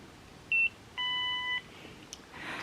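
Nira skincare laser device giving warning signals, a short high electronic beep followed by a longer multi-tone beep, clear but fairly faint in a quiet room.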